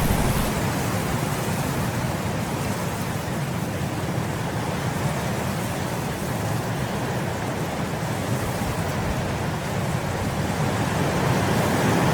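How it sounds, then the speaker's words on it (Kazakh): A snowstorm with wind driving the snow, heard as a loud, steady, unbroken broadband roar that holds the same level throughout, with no voices. "Бұл қардың желмен бірге борап жаууы."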